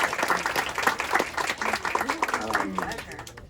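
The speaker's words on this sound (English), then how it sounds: "So just a round of applause for Strange Escapes and doing this together." Audience applause at a Strange Escapes panel at Sea, steady clapping throughout with voices and cheering mixed in.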